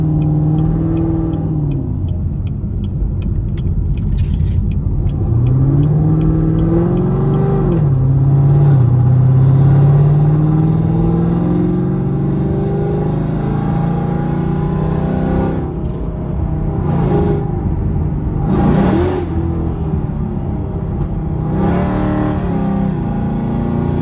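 A Chevrolet Camaro SS in sport mode revs hard while driving, its loud, deep engine note rising and falling in steady surges with a constant rumble underneath and no talking.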